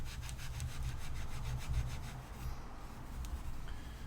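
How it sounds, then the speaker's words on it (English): Steel wool scrubbing adhesive residue off a golf club shaft, a close, steady rasping rub in quick back-and-forth strokes that continues throughout, with no voices. "Hit it with the steel wool. Get some of that off,"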